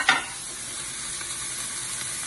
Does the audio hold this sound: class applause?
no